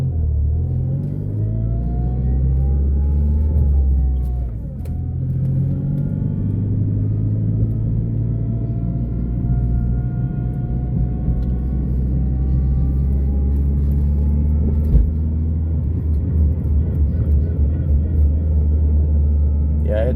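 Turbocharged PT Cruiser GT engine accelerating under throttle with a possible fault, heard from inside as a steady low rumble with a rising, whining engine tone, under intermittent talk.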